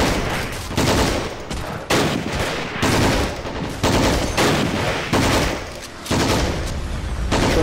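In the Army Men of War video game, a 20mm cannon and other weapons fire in repeated heavy, rapid bursts, each salvo lasting about a second with short gaps between. The bursts are loud, close and continue throughout.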